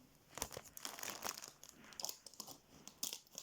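Gift packaging crinkles and crunches during unwrapping at a name-day celebration. The crackles come as soft, irregular bursts close to the microphone, with no talking over them.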